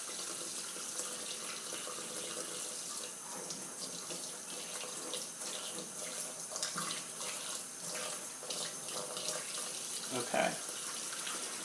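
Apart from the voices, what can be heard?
excess liquid poured off homemade shaving soap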